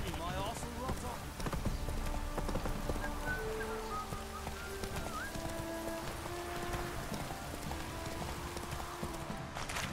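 Rain falls steadily in the open world of The Witcher 3: Wild Hunt, a continuous hiss mixed with horse hoof clip-clops, game music tones and a voice talking over it.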